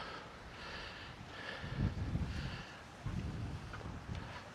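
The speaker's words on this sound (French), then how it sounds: "Il y a beaucoup de vent, vous voyez ça avec les arbres." Gusty wind rumbles and buffets against the microphone among trees, rising and falling in low, steady waves with no talking.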